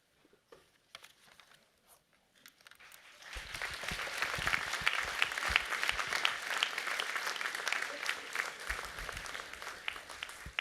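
At a UTS graduation ceremony for the Faculty of Engineering and IT, a few scattered claps build suddenly into broad, steady audience applause that fills the hall and continues at an even level.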